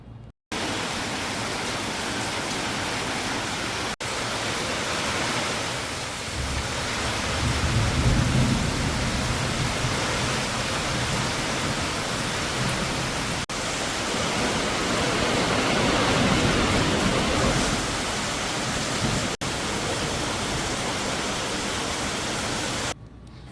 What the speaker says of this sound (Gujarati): અને બહાર પડી રહ્યો છે બહુ બધો વરસાદ